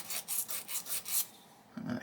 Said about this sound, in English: Let's take my blue medium sanding stick here